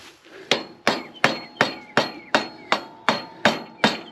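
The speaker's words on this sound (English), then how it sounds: "Get this pin with the hammer." A hammer striking a metal pin on hay equipment, nine sharp, evenly spaced blows, close and loud, with no talking.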